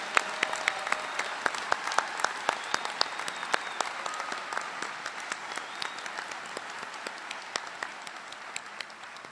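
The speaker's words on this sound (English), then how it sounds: "Let's have another big round of applause for our Masters and Specialist graduates." A large crowd at a university graduation ceremony claps for Masters and Specialist graduates, a long, even wash of applause with sharp individual claps standing out, slowly fading over about nine seconds in a big hall.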